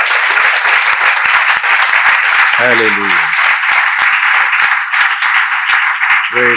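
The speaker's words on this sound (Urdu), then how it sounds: "آئیں ان ماؤں کے لیے" Sustained, loud audience applause filling a church-style gathering in honour of mothers, with a voice shouting an exclamation over the clapping and a brief vocal burst near the end.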